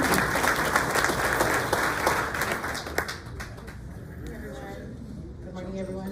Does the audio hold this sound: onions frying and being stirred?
no